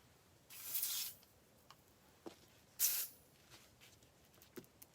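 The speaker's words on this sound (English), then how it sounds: "I'm not spraying a lot. It just won't come out." Two sharp hissing bursts of an aerosol spray can that sprays weakly, the first longer, the second shorter, followed by a few faint taps and clicks.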